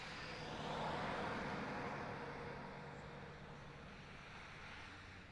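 A small airplane flying near Lancaster Airport in Pennsylvania, heard as a faint, distant broadband drone that swells gently and then fades, with no talk over it.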